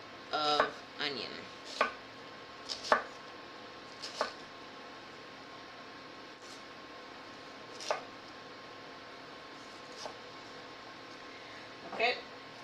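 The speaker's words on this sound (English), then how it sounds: "I'm just going to do thin slices of onion." Knife slicing thin rings of onion on a cutting board, with sharp taps coming in small clusters at an uneven pace, close and fairly quiet over a steady background hiss.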